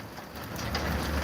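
Hail, preceded by rain, pelts a farm shed where pigs are kept, a steady dense patter building slightly in loudness over a second with no voices.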